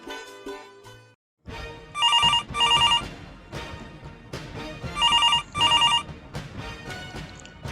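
A telephone bell rings loudly in repeated double bursts, clear and close, with short pauses between each pair of rings.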